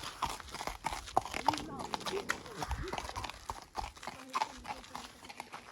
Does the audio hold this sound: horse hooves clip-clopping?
yes